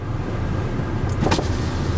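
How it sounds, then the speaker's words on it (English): Power window of a 2016 Audi Q3 being lowered, a smooth motor hum that runs under the loud, steady drone of a running car cabin. "that's, as far as that window goes down"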